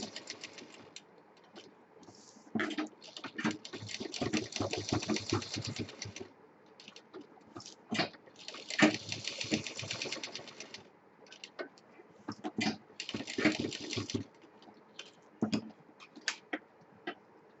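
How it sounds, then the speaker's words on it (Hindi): A sewing machine stitches a fabric waist mobile pouch in bursts of rapid mechanical chatter, with short pauses and single clicks between runs, close and fairly quiet. "तो इसको हम सेंटर में रख के इसको भी सिल देंगे सफाई के साथ"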